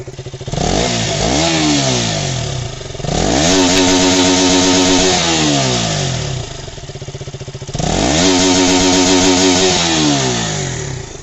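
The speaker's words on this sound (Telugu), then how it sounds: "BS3 KTM RC 200 silencer sound అయితే ఇప్పుడు మనం చూద్దాం" A BS3 KTM RC 200 motorcycle exhaust revs hard in repeated bursts, the engine note climbing and falling between throttle blips, loud and close with no talking.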